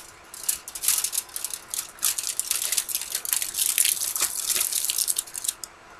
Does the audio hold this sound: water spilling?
yes